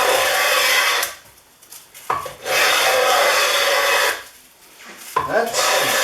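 A Winchester No. 3041 transitional smooth plane, its iron about 2 3/16 inches wide, shaving wood in long loud rasping strokes, three full passes split by short quiet gaps, close up and with no talking.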